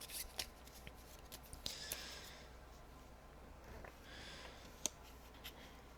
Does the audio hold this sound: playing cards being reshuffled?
yes